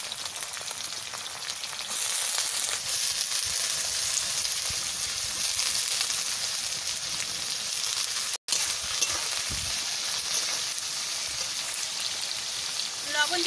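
Potatoes and capsicum sizzle steadily in a hot pan after onions, a dense continuous frying hiss with occasional utensil stirring, close and loud throughout.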